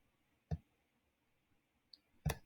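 A computer mouse clicks during work in a design app's text tool: two sharp, close clicks about two seconds apart, with a tiny tick just before the second, over quiet room tone.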